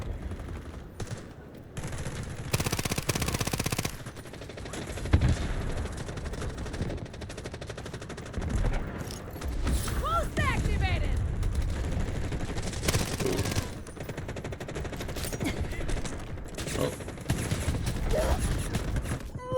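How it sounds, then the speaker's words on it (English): MP7 submachine gun fire in a video game rattles in dense rapid bursts, loud and close, with overlapping distant shots and game noise underneath throughout. "Well, I started shooting."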